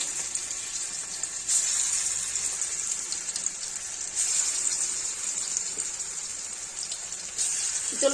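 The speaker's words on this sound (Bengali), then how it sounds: "আমি এক এক করে ভেজে নেব।" Banana flower dumplings (mochar muitha) frying one by one in a pan over moderate heat, a steady bright hiss and sizzle with a few brief louder crackling swells.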